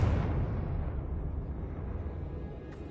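The Confringo spell explodes in Hogwarts Legacy with a loud, deep, boomy blast at the start, followed by a long rumbling decay that slowly fades over a few seconds.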